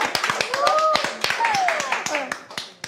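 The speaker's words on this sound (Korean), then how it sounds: "박수 한 번만 주시면 안 될까요?" A small group claps in a TV cooking studio, with crisp, distinct hand claps in an uneven rhythm under lively talk and singing voices.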